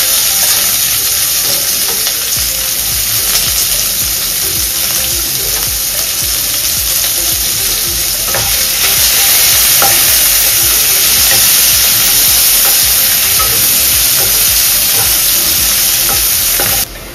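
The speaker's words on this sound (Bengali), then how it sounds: "একটু হালকা ফ্রাই করে নিয়ে তারপরে পেঁয়াজটা দিয়ে দেবো" Onions fry in a pan for a Bengali cauliflower and potato dum, a loud, close, continuous sizzle with occasional stirring scrapes and no talking, cutting off abruptly at the end.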